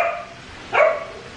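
A dog gives a single short bark at home after breakfast, sharp and fairly close against a quiet background.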